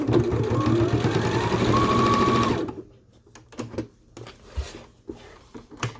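Sewing machine stitching a small square of fabric for a T-shirt coverall bib, running steadily for a couple of seconds and then stopping, followed by quieter clicks and handling noises up close.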